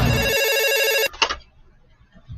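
A hotel telephone rings with a bright electronic tone for about a second, then a click and a softer burst follow as the call is picked up, leaving quiet room noise.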